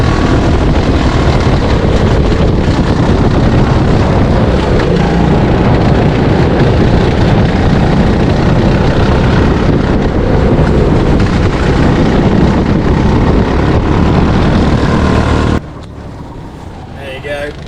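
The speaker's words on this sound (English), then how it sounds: "Now coming up, I'll keep quiet. Sod luck, listen to my engine." Racing kart engine at full throttle on track during a race lap, a loud, continuous buzzing drone with wind rush that holds steady for about fifteen seconds, then drops off abruptly to a faint low sputter.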